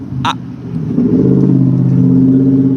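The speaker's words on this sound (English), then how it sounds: "there's a loud car going by" A loud car passes close by, its engine rumbling and building into a steady drone that holds for a couple of seconds, with a brief sharp noise near the start.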